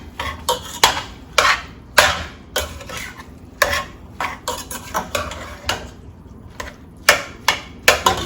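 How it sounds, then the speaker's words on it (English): Repeated clinks and scrapes of a spoon working through lumpia filling in a pan after teriyaki and spices go in, sharp metallic taps in an uneven rhythm, close and fairly loud, no talking. "So I'm going to give that a good stir."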